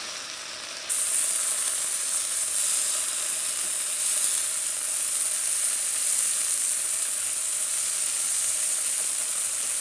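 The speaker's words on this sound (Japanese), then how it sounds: "鍋肌にやることでさらに焦がし醤油になって美味しくなるんですよね" Soy sauce sizzling against the hot side of a pan during a stir-fry for lunch, a steady, loud, bright hiss that jumps up in intensity after the first second and holds continuously with no talking.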